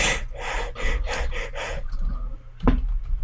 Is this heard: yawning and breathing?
yes